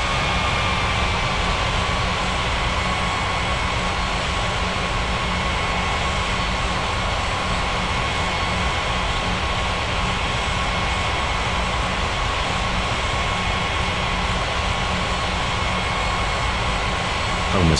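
An Alaska airliner takes off from runway 21 right in an air traffic control video game. A loud, steady jet engine roar with a faint whine holds through the whole stretch, and no one talks over it.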